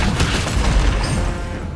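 Explosion detonating in a Honkai: Star Rail style turn-based battle, a dense booming rumble with crackling debris that sustains loudly for nearly two seconds without a clear single hit.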